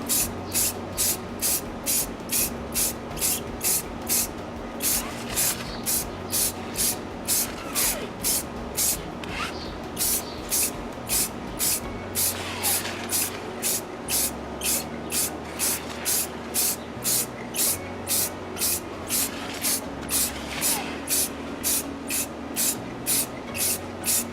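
Rapid rhythmic bursts of aerosol spray paint hiss evenly and close up as ceiling speaker grilles for a home theater are coated in thin layers, the pulses continuing steadily with a faint background hum.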